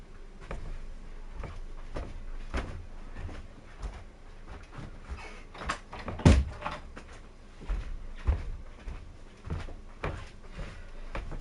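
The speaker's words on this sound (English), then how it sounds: "I just realized I didn't shut my door" A household door pulled shut with one sharp, near thud, set among quieter handling knocks and light creaks in a small room.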